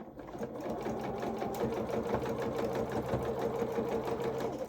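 Sewing machine stitching a seam on small doll-sized coveralls, a steady close mechanical whir with rapid rhythmic needle strokes running continuously throughout.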